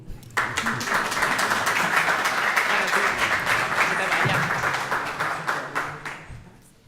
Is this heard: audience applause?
yes